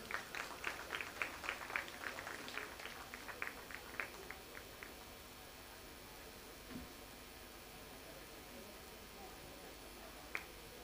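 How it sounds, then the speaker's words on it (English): A sparse round of applause from a prize distribution ceremony audience: faint, distant scattered claps that thin out and fade within a few seconds, leaving a quiet room hum. "Please have a round of applause."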